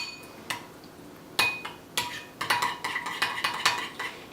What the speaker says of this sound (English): Alright, squirt that right in there and mix it up.